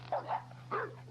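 A dog in a kennel yard gives two short, sharp barks close by, separated by a brief pause, over a low steady hum.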